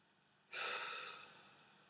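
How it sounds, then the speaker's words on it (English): A person takes a single slow, breathy exhale, close and soft, rising suddenly and then fading gently into quiet. "Me breathing."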